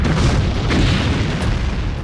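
A massive asteroid impact explosion with an energy of nearly 65 million megatons of TNT is rendered as a loud, sustained booming roar with a deep rumble that fills the whole stretch without pause.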